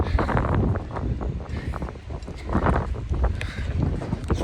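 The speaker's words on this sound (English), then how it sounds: "It's windy." Gusty wind buffets the microphone outdoors near the water, a loud rough roar that rises and falls in uneven bursts with no voices.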